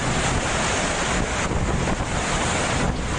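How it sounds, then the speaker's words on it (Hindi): Floodwater from a swollen river rushes over a bridge in Botad, Gujarat, a loud, steady broadband roar of churning water with gusty noise across the whole stretch and no voices. "नदियों का पानी पुल के ऊपर से गुजर रहा है।"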